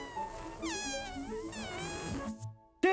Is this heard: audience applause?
no